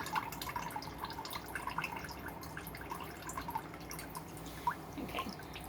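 Water used for marble hydro-dipping with Marabu Easy Marble paint is poured out, a faint, steady trickle and drip of liquid continuing quietly throughout, with no talking.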